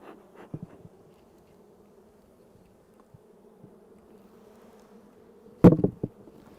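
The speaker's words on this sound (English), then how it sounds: "Just knock the extra bees off." Honey bees humming softly around an opened wooden hive, a low steady buzz with a couple of light knocks early on and a sharp clatter near the end as the bees are shaken off.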